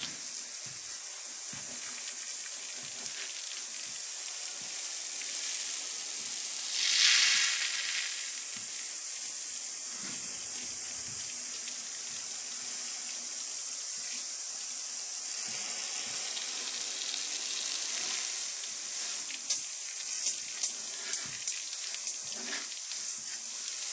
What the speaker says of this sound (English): So I'm just gonna hit it with the hose now.